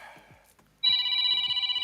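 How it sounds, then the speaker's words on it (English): A phone rings loudly and close by, a bright trilling electronic ringtone starting abruptly after faint voice murmur and pulsing steadily to the end. "Whose phone is ringing?"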